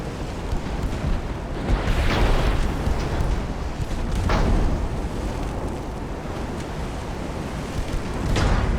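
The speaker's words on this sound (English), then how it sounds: "Let's get both batteries of 8-inchers firing," Twin batteries of 8-inch naval guns from the game Ultimate Admiral: Dreadnoughts fire in heavy rolling booms, three big blasts spread over several seconds above a constant sea-and-wind rumble.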